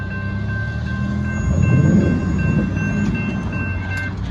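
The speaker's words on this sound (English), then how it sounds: "There goes Southbound Amtrak Texas Eagle 21, leading 58, plus the horn show." Southbound Amtrak Texas Eagle 21 passenger train led by locomotive 58 rumbles past at Stassney Lane in Austin, Texas, a steady close rolling roar with wheel clatter that swells midway, with no talk over it.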